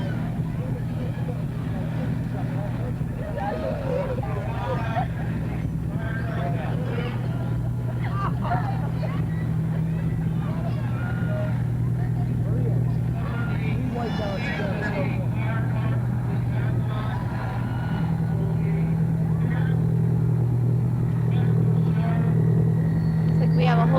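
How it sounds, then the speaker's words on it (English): The Wadsworth fire truck rolls past in the 1986 Blue Tip Parade as a steady low engine rumble, with crowd chatter and an announcer's voice over it throughout. "Next we have Wadsworth Fire Truck."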